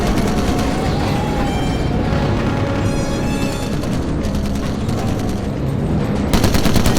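A bomber's tail gun fires in the Call of Duty video game, sustained rapid machine-gun bursts that are loud and continuous, set against the heavy drone of aircraft engines and distant booms.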